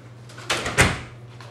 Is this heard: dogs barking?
no